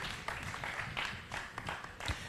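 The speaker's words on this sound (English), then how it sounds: "A big round of applause." An audience claps in a dense, steady patter that is fairly faint and distant-sounding. Scattered voices are faintly mixed into the applause.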